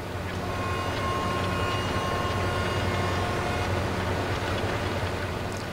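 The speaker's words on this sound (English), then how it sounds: "Train's going by again." Near a farm wheat field, a passing train gives a continuous, even rumble with a faint whine riding on top, loud and unbroken throughout with no voices.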